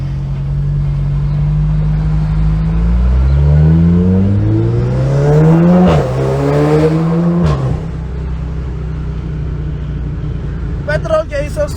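A car with four exhaust pipes revs on a street, the engine climbing steadily to a loud peak, dropping off, then blipping again before settling into idle; faint voices sit under it near the end.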